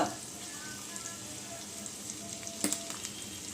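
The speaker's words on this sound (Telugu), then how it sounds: "కొంచెంగా కరివేపాకు వేసుకుని అది కొంచెంగా వేయించుకోవాలి" Ginger, green chillies, cashews, asafoetida and curry leaves fry in ghee with a faint, steady sizzle, broken by a brief crackling spatter near the end.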